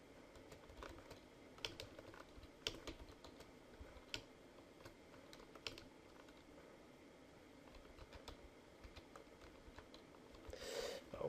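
Soft, irregular taps on a computer keyboard continue for several seconds under a steady background hum, quiet and close, with a few sharper key strikes standing out.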